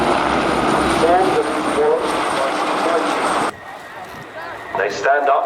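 Army Historic Flight helicopters taxi at the Farnborough airshow, a steady loud engine and rotor roar filling the scene before dropping away abruptly, then swelling again near the end.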